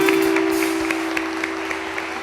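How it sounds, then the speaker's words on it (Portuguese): A church congregation at a Sunday service gives a brief round of applause. The claps are soft and somewhat distant beneath a steady electrical hum that runs throughout. "Você pode dar um aplauso ao Senhor."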